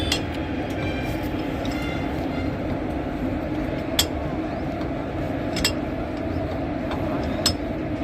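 A train stands at a station with a steady low mechanical rumble and a few sharp metallic clanks spaced out over several seconds, without talk.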